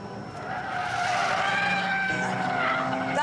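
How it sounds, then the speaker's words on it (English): A Mazda with a rotary Renesis engine and rear-wheel drive slides its tail out. Its tyres squeal loudly and steadily over a buzzing engine note that runs under them for the whole stretch. There is no talking. "Engine really is pretty potent and it has a unique sound. Mazda calls it a Renesis engine."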